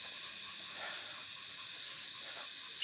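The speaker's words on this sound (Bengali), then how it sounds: "চারিদিকে ঝিঝি পোকার ডাক।" Crickets calling all around in the quiet night at a village resort, a steady high-pitched insect drone that carries on without pause across the whole stretch, with no voices.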